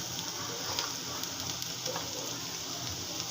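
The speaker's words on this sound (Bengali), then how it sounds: "একটু পেঁয়াজ আর কাঁচামরিচ তেলে দিয়ে দিয়েছি।" Chopped onion and green chili fry in hot oil in a home kitchen with a steady, close crackling sizzle and occasional sharper pops, no talking.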